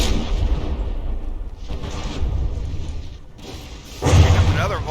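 A battleship turret volley in the naval combat game From the Depths, with only one of four barrels still working: deep booming artillery blasts and rumbling impacts, the heaviest near the end, under a continuous low game roar and speech.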